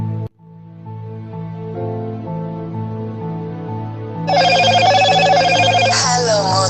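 A telephone rings in a Hindi short film scene, its tone starting partway through and sounding loud and steady over a low background music bed, with no one speaking.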